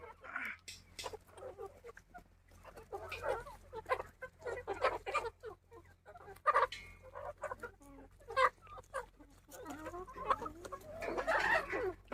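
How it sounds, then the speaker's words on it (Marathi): Several free-range native village chickens cluck and chatter while eating feed, in uneven bursts, near and moderately loud, with brief quieter pauses between calls. "तुम्ही बघू शकता कोंबड्या कसा खातात"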